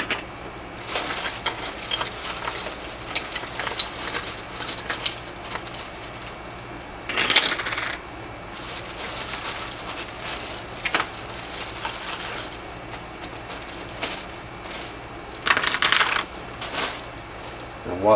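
Metal change gears for a lathe clink and rattle as they are handled and shuffled, with repeated small metallic clatters and a few louder knocks at close range throughout.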